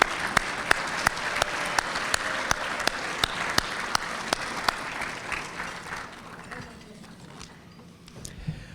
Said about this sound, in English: Could we give the committee a round of applause?